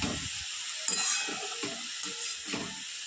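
Radish greens frying in a pan with salt, a steady low sizzle with a few soft scraping stirs and faint clinks, close and alone without talk.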